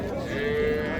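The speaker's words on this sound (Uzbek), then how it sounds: "Mana oq sigir." A cow moos once in a long, steady low call at a busy livestock market, close and loud over crowd murmur.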